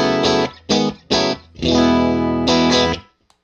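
A Nystrum Jag-style electric guitar on its middle pickup setting plays distorted chords through effects, several short stabs and then a longer sustained strum, loud and close with no voice.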